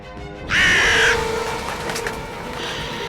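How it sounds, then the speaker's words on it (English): A crow caws loudly and close once, a harsh rasping call of about half a second, inside a house, then quieter bird sounds and room noise follow. "she spotted a motionless crow on the ground"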